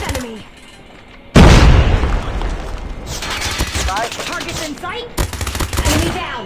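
In Call of Duty Mobile, a sudden loud grenade explosion bursts in after a quiet moment, followed by gunfire and excited talking. A second blast hits near the end.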